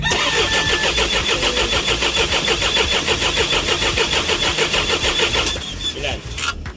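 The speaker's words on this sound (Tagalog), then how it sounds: "Ngayon crank natin, i-start natin i-start natin." An Isuzu 4HG1 diesel engine with a no-start fault cranks in a fast, even rhythmic churn, close and loud, then the cranking cuts off and a brief rougher burst follows; voices speak over it.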